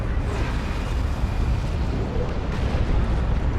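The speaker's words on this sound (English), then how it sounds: "There's a rocket run." Rocket-run strikes in Dawn of War 2 rumble as a dense, loud, continuous wash of explosive roar and low booming debris, with no clear gaps throughout.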